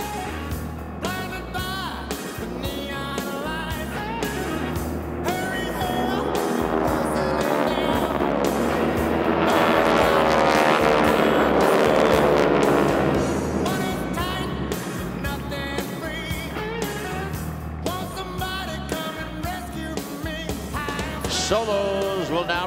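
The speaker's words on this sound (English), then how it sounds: "Follow the aircraft now as they descend and converge over the same point" Formation of GEICO Skytypers aircraft descending and converging overhead at an air show, a sustained engine drone that swells to a loud peak as the planes pass close, then eases away amid background noise.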